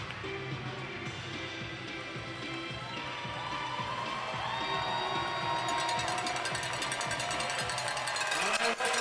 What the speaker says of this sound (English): roars of applause as the Thunderbirds get there back out onto the ice